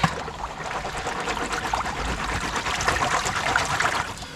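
Water swirls and sloshes steadily in a gold pan as gravel dug from about four inches above bedrock is panned, a close, continuous watery rush with no talking.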